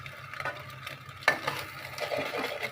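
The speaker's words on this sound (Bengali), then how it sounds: "এমনি পাত্রটা গরম করে ডিমটা দিয়ে দিয়েছি। এটা খুব ভালো করে ভেজে নেব যেন গন্ধটা না থাকে।" Egg fries in a heated pan without salt or turmeric, a low steady sizzle with a sharp utensil knock and some stirring scrapes nearby.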